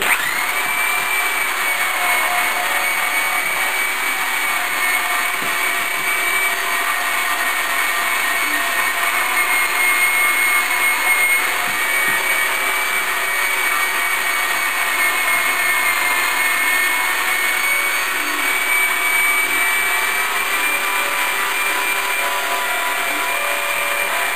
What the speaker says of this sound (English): 3/8 drill, and that's how I pull the paint off.